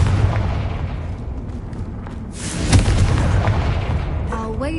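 In the Hogwarts Legacy video game, the Confringo blasting curse lands as a deep booming explosion that swells midway over a steady rumbling game soundscape, ending in a brief shimmering magical tone, with no talk.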